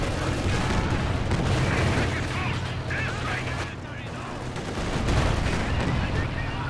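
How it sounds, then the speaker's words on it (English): Artillery fire in a Company of Heroes 2 2v2 match. A dense, continuous barrage of booms and gunfire fills the clip with a loud, busy rumble, and a voice talks over it. "Got some artillery coming."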